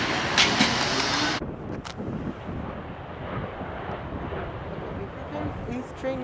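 A train pulling out of College Park station toward San Jose, starting under a short blast of wind buffeting the microphone, then settling into a steady low rolling rumble as it moves off.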